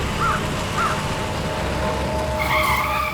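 A car skids with a long tire squeal, the screech steady under engine noise, and a crow caws twice faintly in the background.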